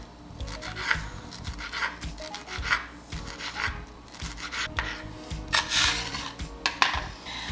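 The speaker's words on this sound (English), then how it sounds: "We have our cilantro here as well that we're going to cut" A knife chops fresh cilantro on a board, giving a run of close, irregular knocks with scraping rubs between strokes and no talk over it.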